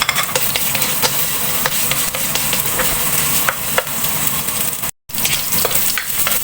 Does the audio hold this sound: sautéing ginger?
yes